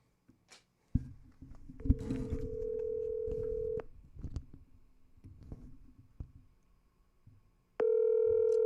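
A telephone dials a call: a few clicks, then a string of touch-tone beeps, a long sustained tone, and a final steady ringing or busy tone near the end, with no talking.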